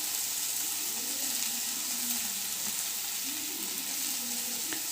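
A chilli parotta mixture with tomato ketchup is stirred in a hot pan, giving a steady soft sizzle with faint scraping and a low background hum throughout.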